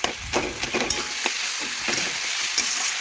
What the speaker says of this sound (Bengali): মাছের মাথাও ভালোভাবে নাড়াচাড়া করে মশলার সাথে একটু মিশিয়ে নেব